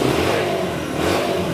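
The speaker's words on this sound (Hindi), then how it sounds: "ऐसे सेल्फ स्टार्ट, ये इन बाइक्स की खूबी है" A 2023 model motorcycle engine revs loudly and steadily up close, a continuous throaty roar with no talking over it.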